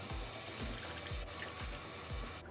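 Water pours steadily into a pot holding sugar and light corn syrup for a candy apple coating, a continuous splashing stream with no talking.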